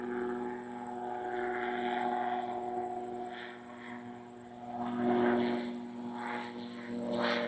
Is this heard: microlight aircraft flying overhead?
yes